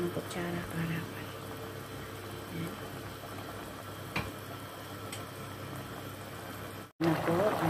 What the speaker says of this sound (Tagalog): Malakas po yung kulo niya.